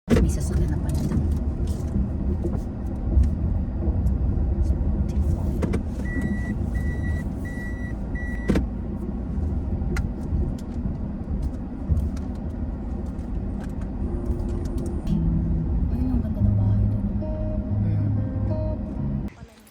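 Road traffic near a parking spot: a car or truck engine rumbles close by while a repeating reversing beep sounds for a few seconds, with people talking over it.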